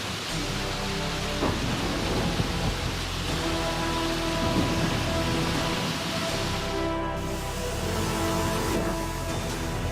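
Heavy, steady rain pours down during severe flooding in China, a dense unbroken roar with low rumbling underneath, loud and close throughout with no voices.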